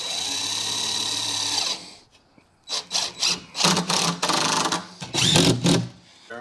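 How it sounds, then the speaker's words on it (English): A power drill fitted with a small Torx bit drives screws while a workbench is assembled, giving a long steady whir followed by several short, loud bursts of driving separated by brief pauses. "First piece is ready to be screwed down. We're using the smaller torx."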